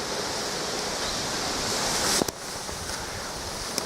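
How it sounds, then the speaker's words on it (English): Wind blows steadily across an exposed hillside among old trees at a castle ruin site, a loud continuous rushing roar with a brief gusty thump on the microphone partway through. "you can tell it's pretty windy"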